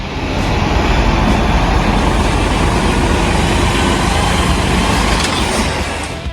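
A Caterpillar 793D mining haul truck built for large-scale mining, a heavy, steady low diesel drone and rumble that holds loud and constant throughout, with no talk.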